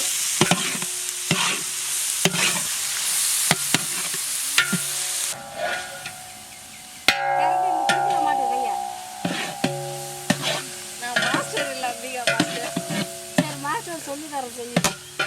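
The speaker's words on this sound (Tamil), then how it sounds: "இங்க வந்து வெங்காயத்தை நல்லா நான் வதக்கிட்டு இருக்கேன்." Onions sizzle and hiss in a hot pan while a utensil stirs and scrapes in irregular strokes, close up, with brief clinks.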